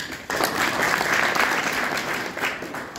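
Audience applause at a farmers' gathering, a dense, steady clapping crowd that starts abruptly and fills the whole stretch loudly with no talk over it.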